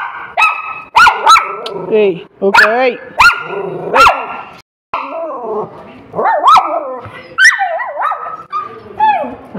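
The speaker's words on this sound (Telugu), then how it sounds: "ఆ కుక్క కోసం ఇది అరుస్తుంది." A dog barks, yips and whimpers in close, loud, repeated bursts, crying out for a female dog nearby, with a person speaking briefly between the calls.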